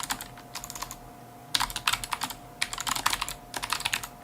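Rapid clattering keystrokes on a computer keyboard come in several quick bursts with short pauses between them, fairly close and alone over a faint steady hum.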